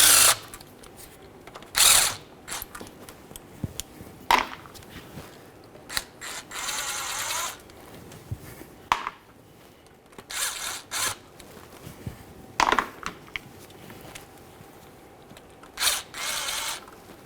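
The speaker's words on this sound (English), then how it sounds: "at this point, we'll fully take out our bolts." A power drill on a 1998-2011 Ford Ranger transmission spins out bolts in short bursts of whirring and ratcheting, separated by quiet pauses and small mechanical clicks.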